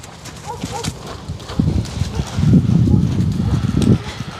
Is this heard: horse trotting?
yes